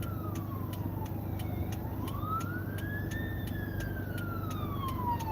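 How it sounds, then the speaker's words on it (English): An ambulance siren wails in a slow rising and falling tone, heard from inside a moving car over steady road rumble, with a rapid ticking beat alongside. "Or is it an ambulance? I guess it's an ambulance."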